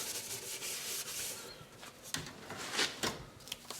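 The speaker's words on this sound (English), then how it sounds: "Quadruple zero from our local hardware store is relatively coarse," Quadruple zero steel wool rubbed over a wood instrument finish, giving a soft, close, continuous scratchy hiss in uneven strokes with a few brief louder scrapes.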